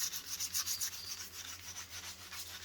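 Sandpaper curved around a handmade knife is rubbed back and forth in quick rhythmic strokes, producing a soft, close, raspy scratching with no talking.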